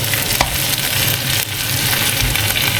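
Liver fries loudly in a pan, a dense, close sizzle with constant spitting crackle and occasional sharper pops.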